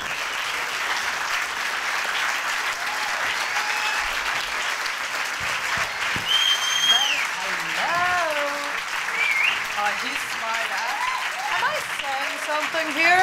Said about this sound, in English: Let's give maybe another applause.